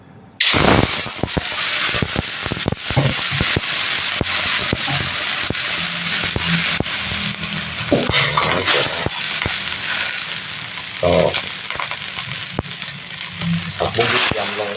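Water splashed into hot oil in a wok for stir-fried morning glory, bursting into a loud, crackling sizzle that keeps hissing and spitting throughout, with scraping clatters of a spatula.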